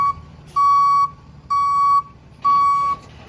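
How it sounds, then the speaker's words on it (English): A tow truck backing into a driveway sounds three loud, steady reversing beeps at an even rhythm over a quiet engine background. "the tow truck you hear right now. They pulling in the driveway right now."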